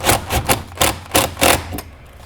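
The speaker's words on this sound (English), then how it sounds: "we're going to go ahead and tighten down that 10mm bolt" Metallic clicks and knocks from a wrench tightening a 10mm bolt on the ground cables of a Corvette C8 Stingray, six or seven close, loud bursts in an uneven rhythm with no voices.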